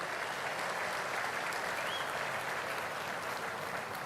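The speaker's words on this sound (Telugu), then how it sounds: "గట్టిగా చప్పట్లు కొట్టి అభినందించండి" A large stadium crowd at a public event claps for a union minister for agriculture and rural development, a loud, dense and continuous roar of applause from start to finish.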